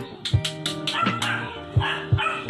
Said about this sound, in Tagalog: Sorry po kung maingay yung aso.